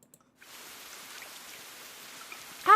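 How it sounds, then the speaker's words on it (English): In a video game, after a brief quiet moment, a steady wash of heavy rain starts and holds evenly, soft and fairly distant, ending with a short tonal blip. "A sudden downpour comes on."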